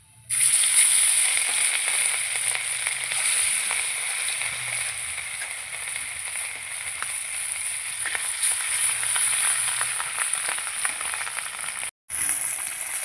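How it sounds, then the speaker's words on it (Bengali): Pieces of rohu fish frying together in hot oil in a home kitchen, a steady close sizzle with crackling spatter throughout and a brief cut near the end. "আর যে কটা আছে সব কটা ভেজে নেবো একসাথে।"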